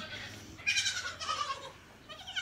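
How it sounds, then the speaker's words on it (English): Seven hungry baby goats on a farm bleat loudly and close by, with several overlapping high, wavering cries that come in bursts over a low background murmur. "as you can hear, I'm sure I've got lots of baby goats."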